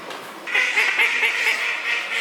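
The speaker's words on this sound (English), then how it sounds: "This is a kalduck with a crest." A crested call duck quacks in a quick run of loud, nasal, close-up calls after a brief quiet start, with no talking over it.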